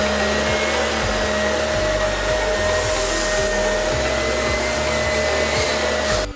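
A Shark Navigator NV360 upright vacuum cleaner runs loud and steady while picking up oatmeal, a continuous high whine with faint rattles of debris, close up, cutting off abruptly at the end; no one speaks.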